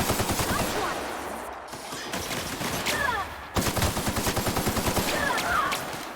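Rapid gunfire from The Outer Worlds, dense rattling bursts of shots in quick rhythmic succession, loud and close, broken by a brief pause before another sustained volley, with some voice faintly underneath.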